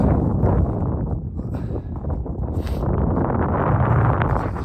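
Strong wind on a mountainside in Spain's Sierra Nevada buffets the microphone in a continuous low roar, gusting steadily throughout with no other clear sounds.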